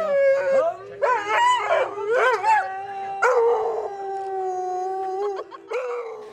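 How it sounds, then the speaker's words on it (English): A dog howls along to a song sung by a man, long wavering howls rising and falling in several drawn-out phrases, close and clear with little else around. "he performs a song with his dog"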